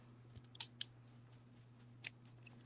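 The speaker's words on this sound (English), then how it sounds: "I'm going to trim that off." Scissors trimming the cord of a handmade knotted bracelet: a few faint, sharp snips and clicks scattered irregularly over a quiet background with a steady low hum.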